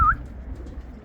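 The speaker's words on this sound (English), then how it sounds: "But I think there was a pigeon. There he is." A white racing pigeon arrives back at its loft after a race, giving one brief, sharp call at the very start, followed by low, soft background rumble.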